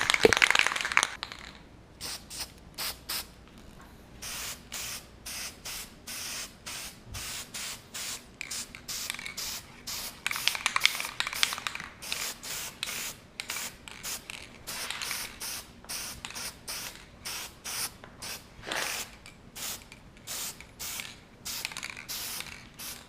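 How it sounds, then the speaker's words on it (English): Rattle-can spray paint hisses in repeated short bursts, laying a light first coat on parts of a Corvette Z06 before hydrodipping, each spray close and loud with brief pauses between passes. "When you use rattle cans, put a couple coats on this"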